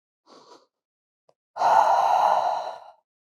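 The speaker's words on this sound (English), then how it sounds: "Take a few more breaths here." Someone holding a yoga balance pose takes a short soft breath, then after a pause lets out one long audible exhale, close and alone.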